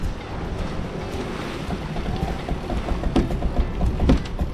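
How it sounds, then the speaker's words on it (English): A sailboat glides under sail with its motors cut near Brisbane, carrying a steady wash of water against the hull and buffeting wind noise on the microphone, with no voices. "We've cut the motors and we are sailing."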